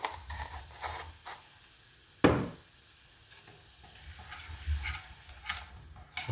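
Spices fried for South Indian mango pickle are stirred in a pan with vinegar and salt, soft scraping strokes and a quiet sizzle, with one sharper knock of the spoon, faint and close.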